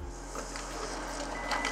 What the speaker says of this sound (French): L'impression se lance comme vous pouvez l'entendre.